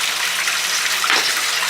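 Water gushes steadily from a cement ring water tank, a continuous broadband rushing and splashing that stays close and fairly loud throughout, with a slight surge partway through and no voices.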